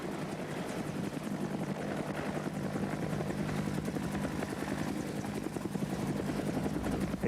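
A military helicopter flies with a steady, loud rotor chop and engine whine that stays constant throughout, with no voices.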